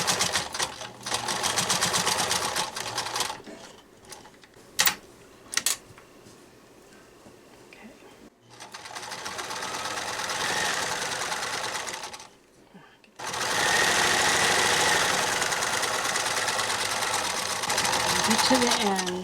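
A sewing machine stitches a pocket filter mask in several loud, close bursts of rapid mechanical whirring, separated by pauses with a few short stitch clicks, while a person talks between and over the runs.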